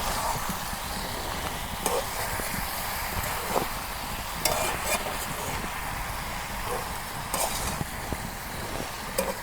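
Stirring a pan of batta fish curry with ridge gourd in a village kitchen gives a steady scraping and sizzling texture, with a few sharper scrapes standing out against a constant background hiss.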